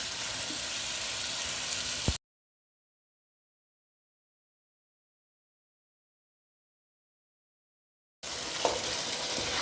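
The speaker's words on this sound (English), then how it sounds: "my meat getting fried nicely" Mutton fries in masala with a steady close sizzle and bubbling, cut off by a long stretch of total silence before the sizzle returns.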